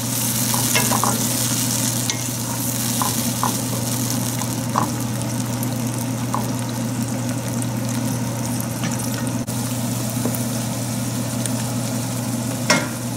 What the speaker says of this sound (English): we'll cook it till all the liquid is absorbed and the oil is released from the tomatoes